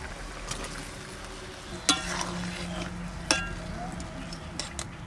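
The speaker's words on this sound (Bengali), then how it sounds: "এবার বেগুন কটা দিয়ে দেবো।" Brinjal pieces added to a bubbling duck egg and brinjal curry in a pot, with a steady frying sizzle and a few sharp clinks of a spoon against the pot.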